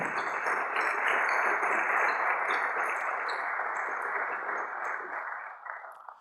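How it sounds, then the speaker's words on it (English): Broad applause from an awards ceremony audience greets the candidates, a full, even roar of many hands clapping that holds steady before tapering off toward the end. "how about a nice round of applause for all of our candidates this evening?"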